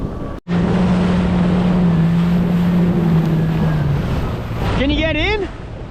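A Sea-Doo Spark jet ski engine drones steadily on the surf, nearly masked by heavy wind buffeting the microphone, then cuts off near the end as the rider's voice rises briefly.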